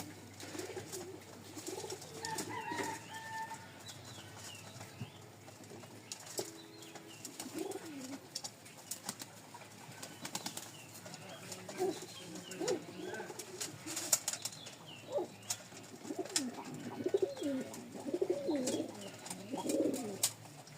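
Domestic pigeons, including a cream male, cooing softly while sitting on their eggs in a loft, with repeated low coos and some wing rustling throughout.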